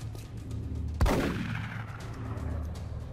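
Overwatch rifle fire in the tactical strategy game XCOM: Enemy Within: one sharp, loud gunshot about a second in, ringing out in a short decaying tail over a steady background hum of game ambience.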